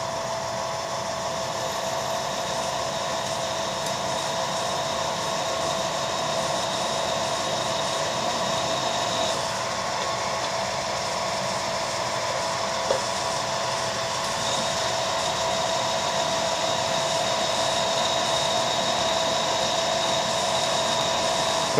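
A cobalt drill bit bores through stainless steel hex bar, giving a steady, continuous grinding whine with a faint high metallic squeal, close and even throughout.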